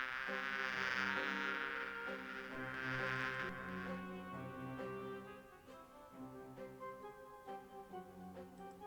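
Bees buzz around the university beekeeper's hives in the Discworld 2 adventure game, a steady droning hum layered with tonal game music that continues as the buzz thins out.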